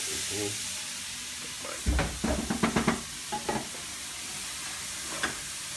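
Beef Wellington ingredients cook in a pan, giving a soft steady sizzle with a cluster of sharp stirring scrapes and clacks in the middle and a few scattered knocks, close by with no talking.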